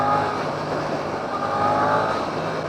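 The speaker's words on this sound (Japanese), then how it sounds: "この排気音が連続的になって" Suzuki GSX-8S motorcycle with a short muffler, its exhaust note a steady, continuous engine drone heard from the rider's position at road speed, loud and unbroken with no talking.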